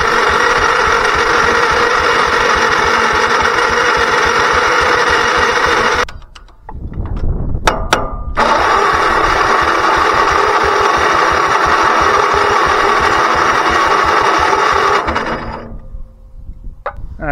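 A Caterpillar D4 7U pony motor runs after being started on ether, a loud steady buzzing drone close by that cuts out briefly midway, sputters, then runs again before dropping off near the end.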